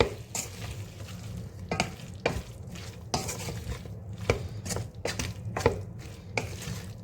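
A spoon scrapes and clacks through an onion dish in a pan, with repeated sharp strokes over a low background hiss, close and fairly quiet with no voices.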